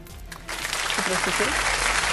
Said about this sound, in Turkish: Söylemeden alkış geldi